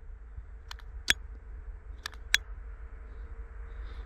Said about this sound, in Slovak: Zase zapaľovač nechce ísť.